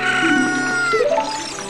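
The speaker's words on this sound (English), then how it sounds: "Chicken, sir." Chicken in Zelda: Ocarina of Time giving a short, loud, tonal cluck-like squawk with rising and falling pitch, close and alone for under two seconds.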